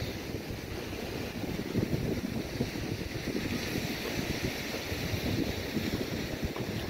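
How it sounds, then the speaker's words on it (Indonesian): Strong, gusty wind buffets the microphone at a sea shore in a fishing area, a steady broad roar over seven seconds with surf mixed in and no voices. "Berangin guys, lumayan kencang anginnya guys."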